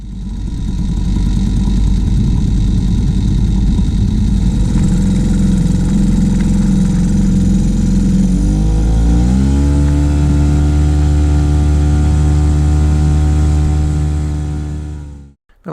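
A small Mariner 3.3 horsepower outboard motor on a sailboat runs steadily with a loud, buzzy drone, then shifts to a smoother, lower pitched note halfway through before cutting off abruptly at the end.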